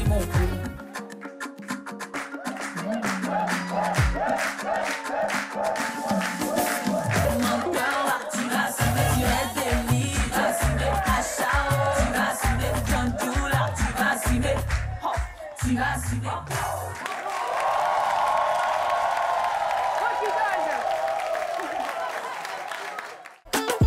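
Studio audience at a televised launch show applauding for a performer, sustained clapping and crowd noise building over music and talk, then a steadier wash of applause toward the end.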